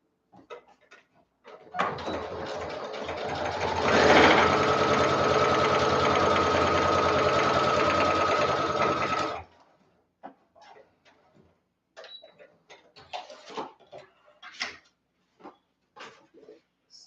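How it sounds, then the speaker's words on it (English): A sewing machine runs at default stitch length along a dress seam, a continuous close mechanical whir lasting several seconds, followed by scattered handling clicks and light bumps. "This is just regular stitching, so I'm going to keep it at the default stitch length."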